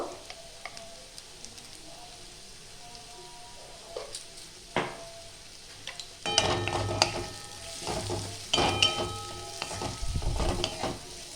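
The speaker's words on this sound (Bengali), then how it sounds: "একটু নাড়াচাড়া করব।" White sauce pasta seasoned with oregano, chili flakes and pepper is stirred in a pan, a soft sizzle broken by scraping spoon strokes and clinks that grow busier and louder in the second half; no talking.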